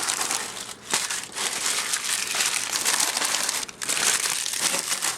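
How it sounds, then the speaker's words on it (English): Newspaper or craft paper is crumpled and stuffed between plastic deli cups while packing a reptile shipment, a continuous close crinkling and rustling with brief pauses. "put some crumpled up newspaper or craft paper in between these deli cups"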